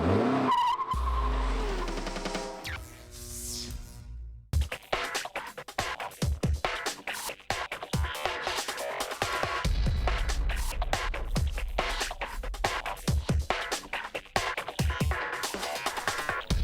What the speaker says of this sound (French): La Mazda Furai est une voiture dérivée justement des protos du Mans.